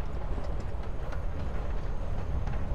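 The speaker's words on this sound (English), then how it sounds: "You're on a freaking train with Rachel freaking Amber." A train ride in the video game Life is Strange Before the Storm: a close, steady rumble with a faint rhythmic clatter of the carriage, heard alone without voices.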